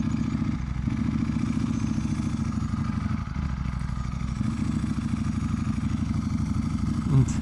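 A Ducati V4 Superleggera motorcycle engine purrs close by while riding, a continuous even drone that holds steady throughout with no pauses.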